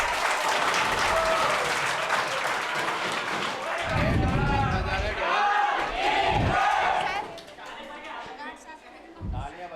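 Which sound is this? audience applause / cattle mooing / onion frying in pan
audience applause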